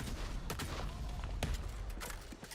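Scattered pistol shots in Valorant, several sharp cracks at irregular intervals over a quiet background din, faint and not close.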